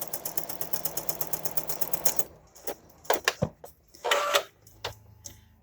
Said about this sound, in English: Now I'm ready to sew down along the top of my mask